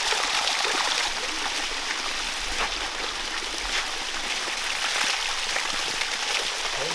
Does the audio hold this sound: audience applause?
no